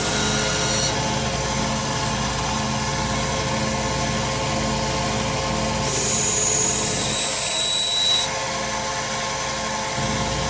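A knife blade is sharpened on a 1x30 belt sander with a 400 grit belt, a steady loud whirring hum with brief hissing rises as the edge meets the belt, alone without talk.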